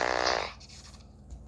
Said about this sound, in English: Ooh, look, a whoopee cushion.